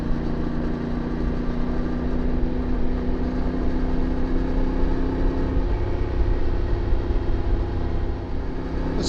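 Steady engine hum and wind rush come from a CF Moto 450MT motorcycle cruising in sixth gear on alpine mountain roads, constant and close for the whole stretch with a slight pitch dip midway.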